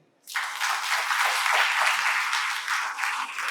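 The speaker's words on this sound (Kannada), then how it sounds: "ಚಪ್ಪಾಳೆ" Children and guests at a state-level book competition award ceremony break into applause, starting abruptly after a brief silence and holding steady and full until the end.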